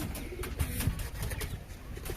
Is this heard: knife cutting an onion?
no